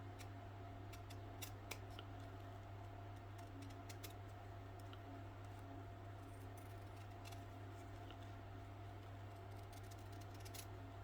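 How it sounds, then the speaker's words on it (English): Scissors trim the edge of hem tape, a few faint snips and light clicks over a steady low hum, close and quiet, no talking. "all I want to do is just trim off that little bit of edge there that's holding the tape together"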